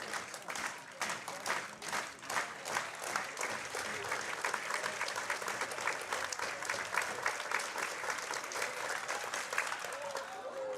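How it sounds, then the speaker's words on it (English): A baseball crowd at a Chinese Taipei versus Italy game claps in unison, a distant, rhythmic slow clap that repeats evenly and gradually quickens across the stands. "As the crowd starts the slow clap."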